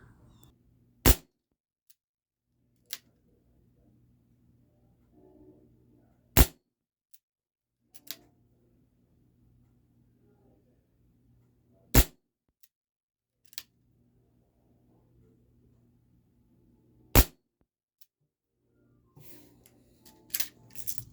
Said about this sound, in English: Six more shots of the Crossman lead-free high-velocity pellets.